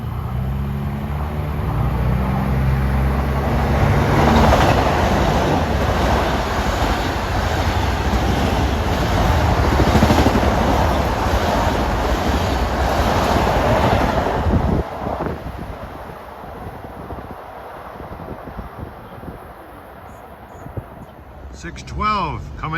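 A Long Island Rail Road commuter train rushes past close by on the triple track at Westbury station during evening rush hour, a loud broad rumble with wind buffeting that fades after about fifteen seconds, voices present beneath.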